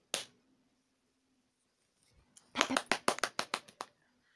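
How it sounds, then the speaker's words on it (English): A single sharp snap, a long quiet pause, then a quick run of about eight crisp hand claps or snaps in close succession. "Her hands clap together with a loud crack"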